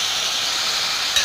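Finely chopped garlic sizzles as it hits a hot pan for a paneer gravy, giving a brief, loud, even hiss with a small flare at the very end.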